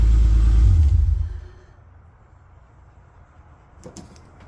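A power antenna motor on a MKIV Toyota Supra winds the mast down into the car with a loud low whirring rumble for about a second, then cuts off into near silence, ending with a faint click.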